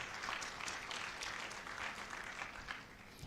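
An audience at a college orientation programme claps steadily at a soft, distant level, a continuous patter with no talk over it.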